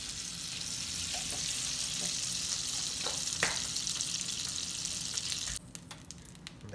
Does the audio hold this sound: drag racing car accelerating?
no